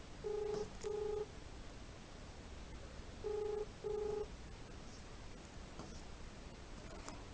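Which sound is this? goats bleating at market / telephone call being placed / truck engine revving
telephone call being placed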